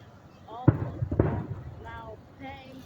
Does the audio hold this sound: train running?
no